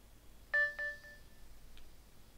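A Sony Ericsson W910i Walkman phone plays its startup intro: a short bright electronic chime with two quick tonal hits and a brief ringing tail, followed by a faint blip, quiet overall.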